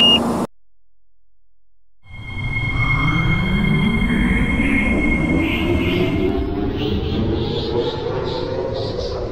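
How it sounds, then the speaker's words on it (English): A train in the Roblox game Delta Line Project pulls away from a platform after a brief silence, a low rumble building steadily with rising wheel whine and faint high squeals, loud and close. "The train is about to depart."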